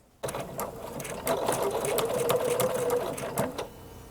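A sewing machine runs steadily at close range, zigzag stitching over a couched decorative thread, a continuous whirring motor with fast rhythmic needle clatter for about four seconds after a brief quiet start.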